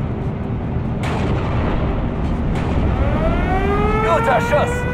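Heavy booming artillery fire in the video game Steel Division 2, with sharp blasts over a constant rumbling battle din, a whistling shell sweeping in near the end; loud and close.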